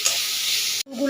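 Onions fry in a hot pan with salt and turmeric, a bright steady sizzle and hiss that stops abruptly near the end, followed by a brief voice.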